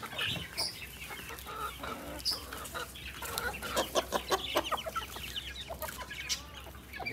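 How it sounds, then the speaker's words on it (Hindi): Chickens cluck softly and repeatedly nearby, with scattered quick clucks and a few sharper calls over a quiet background. "हमारी मुर्गियाँ ना ये घास बहुत ज्यादा शौक से खाती है।"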